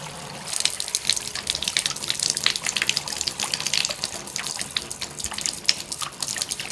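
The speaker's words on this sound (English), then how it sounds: "And there's the extra water going down our finished drain." Surplus water runs down a newly finished shower drain during DIY shower valve plumbing work, making a steady, close splashing trickle with scattered drips and no talking.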